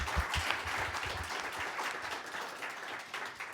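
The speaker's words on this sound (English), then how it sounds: "Everybody give them a round of applause again," Audience applause after a high school debate championship round, a continuous crowd clapping at moderate volume with a few claps standing out close by, holding evenly for several seconds.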